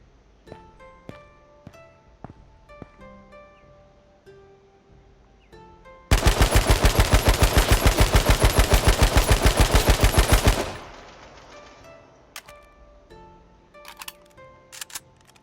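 An automatic weapon in H1Z1 fires one sustained spray of about four and a half seconds, loud and rapid, set between sparse isolated clicks and single shots before and after.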